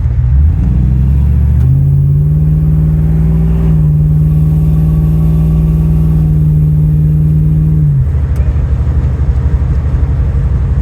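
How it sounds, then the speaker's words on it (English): A car revs hard through its exhaust at a street cruise, a loud sustained engine roar climbing and holding for several seconds before easing back to a steady idle rumble, close to the listener. "Yeah, I love that exhaust system."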